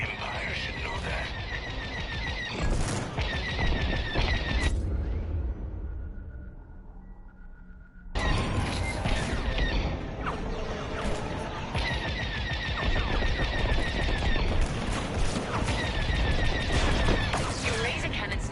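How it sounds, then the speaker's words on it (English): In a Star Wars space combat game, rapid bursts of laser cannon fire crackle almost continuously, dense and loud, pausing briefly midway before resuming amid chaotic combat sounds. "Your laser cannons need to recharge."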